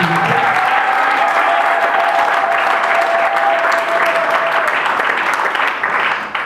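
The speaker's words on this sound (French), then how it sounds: "Très bien. Applaudissez pour vous." Steady, dense applause from a crowd at a wedding ceremony fills the whole stretch, loud and continuous, tapering slightly at the very end.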